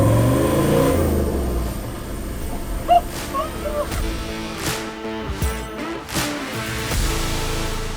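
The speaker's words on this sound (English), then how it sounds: "TDO42 is the best engine ever made, eh? Best diesel." A Toyota FJ49 with a TD42 diesel engine revs on its first drive, a rough, mid-pitched engine roar that rises and falls, with a few sharp knocks in between.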